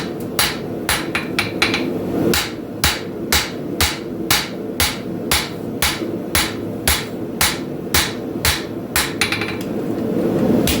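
A hammer rings on a hot camp knife blade over a cold anvil during forging, a steady run of about twenty loud, sharp metallic strikes in even rhythm, with brief pauses between bursts.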